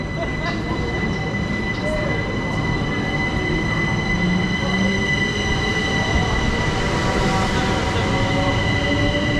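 A Southeastern Class 375 electric train stands at a platform in Kent on the Hastings to Charing Cross service, with a steady hum, high whining tones and faint wheel squeal, and a voice talking in the background.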